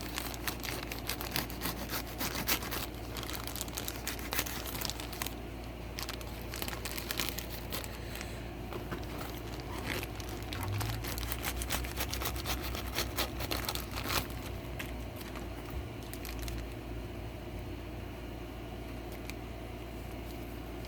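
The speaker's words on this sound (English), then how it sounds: "I'm going to cut the bag away because I want it to look like a watermelon" A plastic bag is cut and peeled away from a watermelon, giving a steady, close stream of crinkling, rustling and scraping plastic that runs without pause throughout, with no talking.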